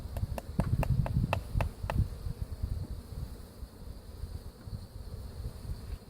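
Angry honeybees swarming around an opened hive, a loud low drone close to the mic, with several sharp clicks early on as bees bounce off a beekeeper's mask.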